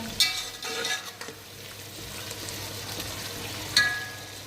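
A spoon stirring and mixing tahari rice in a hot pot, soft sizzling with a couple of sharp clinks of utensil against metal, close and alone without talk.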